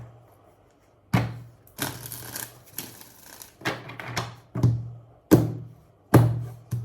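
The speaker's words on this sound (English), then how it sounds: "Let's shuffle again." Tarot cards being shuffled, about eight sharp riffling bursts of card edges snapping together, each a quick crisp flutter separated by brief pauses, close and clear with no voices.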